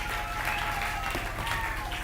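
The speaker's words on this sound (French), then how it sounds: "Applaudissez très fort pour le Seigneur." A church congregation claps loudly and continuously for the Lord during a French and Lingala sermon, a thick, sustained roar of many hands with a faint organ or keyboard tone sustained underneath.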